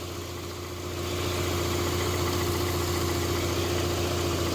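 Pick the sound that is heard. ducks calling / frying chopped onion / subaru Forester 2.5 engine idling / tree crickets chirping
subaru Forester 2.5 engine idling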